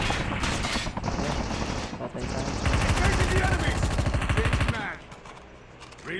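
Rapid automatic gunfire bursts in a shotgun-focused shooting video game, dense rattling volleys that swell loudly mid-clip then cut off, followed by quieter game sounds.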